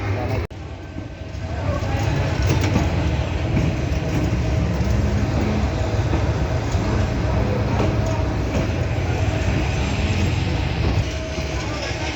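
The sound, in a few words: train at Chattogram railway station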